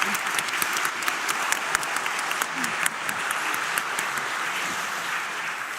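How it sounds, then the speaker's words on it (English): Steady applause from a conference audience thanking a panel at the Leangkollen Security Conference, dense clapping sustained at an even level for several seconds, with no voices over it. "please join me in a big round of applause to our excellent panelists"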